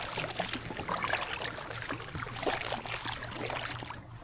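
An inflatable Gumotex Swing 1 kayak is paddled on open water with a homemade hybrid paddle. Soft splashes and drips from the blade come in an uneven rhythm over a quiet, steady watery wash, with a faint low hum underneath.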